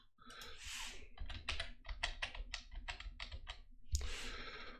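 Someone types a password on a computer keyboard: a close, quick run of about a dozen crisp key clicks in uneven bursts, ending with a slightly heavier keystroke.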